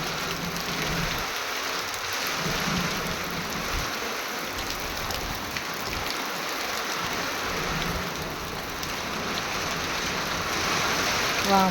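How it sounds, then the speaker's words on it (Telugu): Heavy rain pours outdoors where buffaloes are tethered, a dense, continuous hiss of drops striking surfaces for about twelve seconds at an even, loud level. "ఫుల్ వర్షం ఫ్రెండ్స్"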